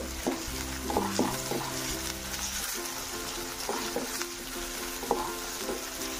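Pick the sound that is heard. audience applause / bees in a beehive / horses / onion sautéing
onion sautéing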